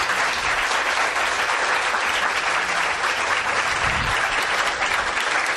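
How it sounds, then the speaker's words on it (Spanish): Audience applause at a talk, a dense, even wash of clapping that holds steady for several seconds with no voices over it. "Un aplauso."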